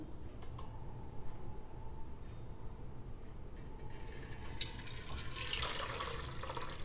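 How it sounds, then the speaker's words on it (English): Homemade sweet lime wine being poured into a strainer, a soft continuous trickle of liquid that swells into a fuller, splashier pour toward the end, close and fairly quiet with no speech. "Now we are pouring our wine into the strainer."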